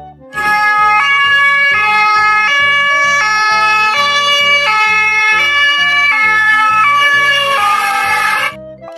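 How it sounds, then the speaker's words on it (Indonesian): An ambulance siren blares close by, its stepped tones alternating rapidly and loudly for several seconds before cutting off. "Mobil ambulans."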